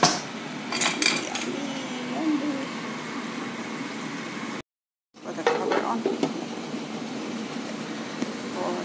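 Pork tenderloin sauce bubbles and simmers steadily in a pan, with a few sharp scraping clinks near the start, then a brief gap before the low bubbling resumes.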